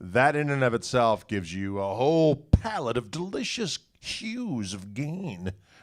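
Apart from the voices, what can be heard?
None of the usual background noises is heard.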